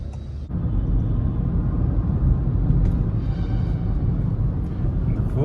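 A steady low rumble of road traffic heard from inside a Honda City e:HEV hybrid car, dense and continuous, with engine drone and faint higher whines of vehicles moving nearby.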